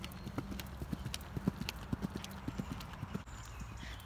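A ridden horse's hooves clip-clop in a steady rhythmic beat of moderately close footfalls, with faint background noise.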